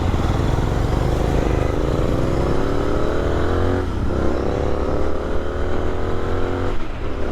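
A motorcycle cruises steadily at about 80 on a highway during a Bangalore to Kodaikanal trip, its engine drone loud and continuous under heavy wind rush, with the pitch rising gently at times.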